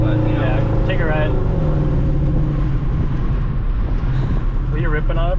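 A Subaru WRX with a fender exit exhaust and a manual swap rumbles loudly and steadily from close by, its engine drone steady throughout, with voices talking over it; distinct backfire pops are not clearly evident.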